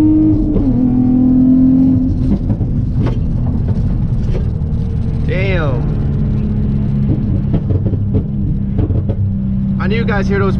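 Tuned Infiniti G35 coupe under hard driving, its deep exhaust rumble running steadily throughout with scattered sharp backfire pops and crackles layered on top, loud and close, while people talk and exclaim over it.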